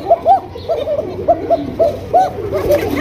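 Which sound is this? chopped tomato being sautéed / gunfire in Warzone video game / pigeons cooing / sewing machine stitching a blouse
pigeons cooing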